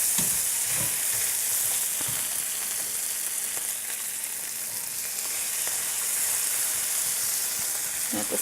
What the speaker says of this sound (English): with a potato masher, we're gonna go ahead and make sure that it gets nice and smooth